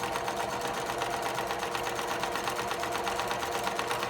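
A sewing machine stitches steadily along the edge of a memo book cover flap, its fast, even mechanical whirring continuous and close throughout.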